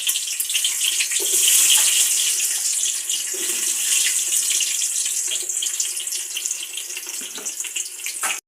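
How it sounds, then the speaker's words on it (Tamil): Onion frying in hot oil for a Jaffna-style rice dish gives a steady, close, loud sizzle and crackle that holds for several seconds without any talk. "ஆயில் சூடாயிருச்சு கொஞ்சமாக வெங்காயம்"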